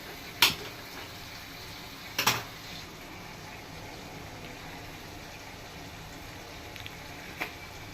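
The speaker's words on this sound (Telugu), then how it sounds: "చక్కగా ఉడుకుతుంది" Cucumber and tomato curry for a dried fish dish bubbling in a pan, a soft continuous simmering hiss broken by a few sharp clinks of utensils against the pot.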